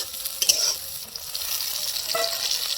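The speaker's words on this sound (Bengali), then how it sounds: "পেঁয়াজগুলো লাল লাল করে ভেজে নেব।" Chopped onions frying in hot oil with whole garam masala in a wok for a spicy duck curry, giving a steady close sizzle with occasional scraping stirs and no voices.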